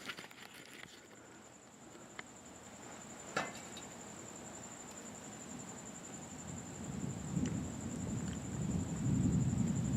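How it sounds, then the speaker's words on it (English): Thunder rolls through an outdoor thunderstorm, a low rumble that swells and grows louder toward the end, with a steady high insect chirp running throughout and no talking. "I'm listening to the thunder"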